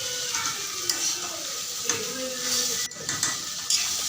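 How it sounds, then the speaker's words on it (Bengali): Soya chunks frying in hot oil in a pan give a steady, close sizzle, with occasional stirring scrapes and clinks cutting through the hiss. "দেখো ভালোভাবে ভেজে নিচ্ছে"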